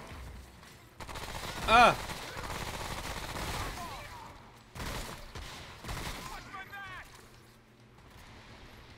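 A gun fires in the video game Remnant: From the Ashes, with a burst of rapid shots and scattered further blasts over ambient game noise, while someone talks and exclaims.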